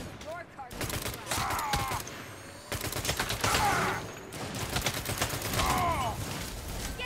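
Bursts of rapid automatic gunfire rattle through a Saints Row game session, coming in three loud volleys with brief mechanical clicks between them as a voice talks over the action.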